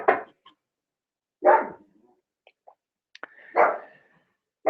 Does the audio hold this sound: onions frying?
no